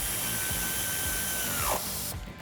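A power tool drives an 8mm Allen socket to tighten a bolt on a Jeep Wrangler JL 4-door lift kit install, a steady mechanical whir whose pitch drops sharply as it stops, then a brief quieter tail.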